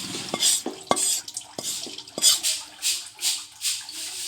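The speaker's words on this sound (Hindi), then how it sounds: "अब इन चीज़ों को अच्छी तरह हम मिक्स करेंगे" A spoon works flour, flaxseed and other ingredients together in a pan for alsi pinni, producing rhythmic scraping strokes with a few sharp metallic knocks against the pan, close and fairly quiet.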